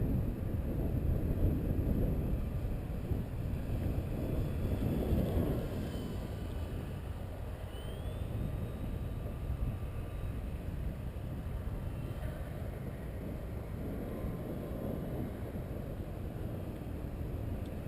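An FMS 1400mm BF-109 RC model plane throttling back in heavy crosswind, its faint motor hum buried under steady outdoor wind rumble and microphone buffeting, gusting louder early and then settling.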